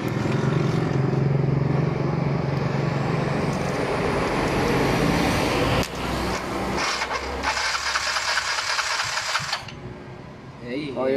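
A 200cc motorcycle engine turns over and runs up close, a dense mechanical roar with a rising whine and shifting revs, followed by a buzzing, rattly patch; voices talk alongside.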